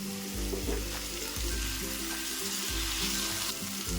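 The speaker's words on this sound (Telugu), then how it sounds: "ఇలా వేయించుకోవాలండి వేయించుకున్న తర్వాత ఇందులో మనం ఒక టమాటా అండి చిన్న టమాటా కట్ చేసుకొని వేసుకోవాలి" Prawns and a chopped tomato fry for prawn fried rice, giving a continuous soft sizzle with a low steady hum under it. The sound is fairly quiet and comes from nearby, with no voices.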